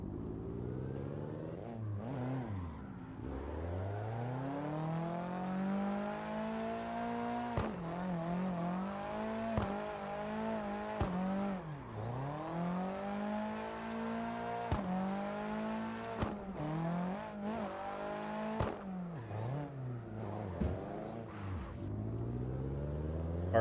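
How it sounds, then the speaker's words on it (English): Cars in CarX Drift Racing online rev hard and sweep past one after another, engine pitch rising and falling with repeated gear shifts and tire squeal, loud and continuous with no talk. "Cars streaking across,"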